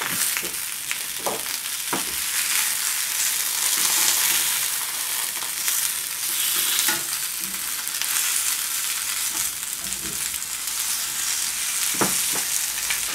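BBQ chicken sizzles steadily in a stovetop pan as the pieces are flipped, with a loud continuous hiss broken by several sharp clacks and scrapes of the utensil.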